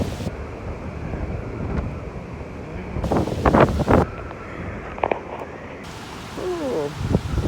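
Strong storm wind gusts roar and buffet the microphone unevenly, swelling in loud bursts and easing between them during heavy weather with rainfall.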